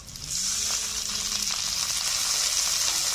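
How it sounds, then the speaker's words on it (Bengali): Tomato and green chilli are dropped into onions fried light reddish in a hot pan, giving a steady, loud, close sizzle that holds evenly throughout with no voices. "পেঁয়াজগুলো হালকা লালচে করে ভেজে নেওয়ার পর দিয়ে দিচ্ছি টমেটো"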